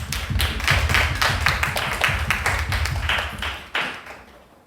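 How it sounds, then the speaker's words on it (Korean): A church congregation claps in unison, a run of sharp, regular hand claps at a quick steady rhythm, close and loud, tapering off near the end with no talking over it. "우리 하나님께 영광의 박수를 한번 칠 수 있었으면 좋겠는데요."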